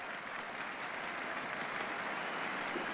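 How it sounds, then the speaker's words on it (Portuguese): Stadium crowd at Arena do Grêmio applauding the Brazil national football team during the Brazil v France match, a steady broadband wash of distant clapping and crowd noise continuing evenly throughout. "E a torcida aplaude a seleção brasileira nesse momento"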